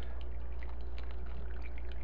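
Hot water pours steadily over coffee grounds in a single-cup drip cone, a continuous, even trickling wash with a low background hum and no talking.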